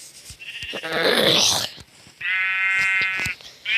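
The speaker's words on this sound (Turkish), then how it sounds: "Şuradan koyun sesini. Koyun sesi" Two loud, drawn-out Minecraft sheep bleats close by, the first wavering and noisy, the second a clear sustained baa, then the start of another.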